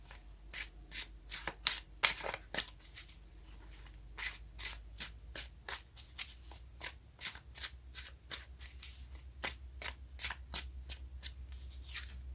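Tarot cards being shuffled by hand, a rapid run of close, crisp riffling flicks and slaps in an uneven rhythm, quiet and alone.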